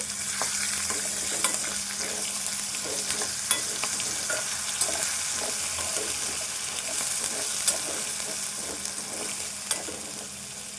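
Chopped onion frying with ginger garlic paste and curry leaves for a potato fry, a constant close sizzle broken by regular scraping strokes of a spoon stirring through the pan, with no voices.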